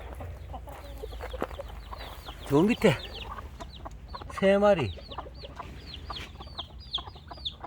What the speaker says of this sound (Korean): 왜 병아리들이 지 어미는 희한하게 압니다